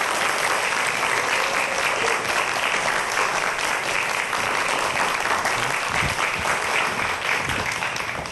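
Sustained applause from a lecture audience welcoming a professor to the stage for a talk on biomimicry science, dense and steady throughout without any speech.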